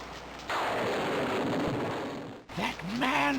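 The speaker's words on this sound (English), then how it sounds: "Alexander feels a drop. It starts to rain." Steady rain in the video game King's Quest VI hisses loudly and evenly for a few seconds, then cuts off as synthetic game sounds with rising and falling tones take over.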